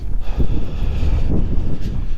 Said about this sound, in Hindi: हवा चल रही भाई, बिल्कुल ठंडी।